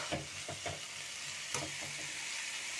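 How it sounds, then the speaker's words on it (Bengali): Boiled potato and carrot pieces fry in a pan with a quiet, steady sizzle, broken by a few soft scraping knocks as they are stirred. "আলু আর গাজরটা সেদ্ধ হয়ে গেছে আর একটু ভাজা ভাজা হোক"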